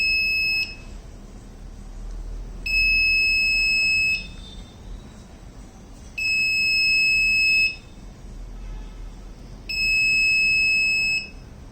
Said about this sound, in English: One is the visual indication from this LED and audible indication from the buzzer.